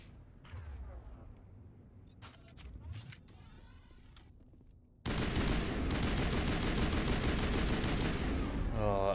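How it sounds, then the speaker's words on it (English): An assault rifle firing chemical rounds in Mass Effect. After a few seconds of faint creaks and clicks, a loud, sustained burst of automatic fire starts suddenly and keeps going to the end. "I will put chemical rounds on my assault rifle."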